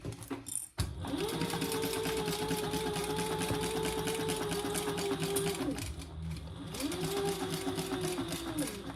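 Sewing machine stitching a crossbody bag, running in a steady continuous whir for several seconds, pausing briefly, then resuming; close and fairly loud with no talking.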